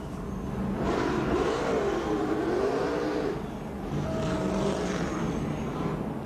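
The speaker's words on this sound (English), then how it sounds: "This is a tough pit road right here to do a burnout on with all that banking." Kyle Busch's NASCAR stock car roars through a burnout on the banked pit road at Dover, its engine revving in long, rising and falling surges, loud and continuous with a short dip in the middle.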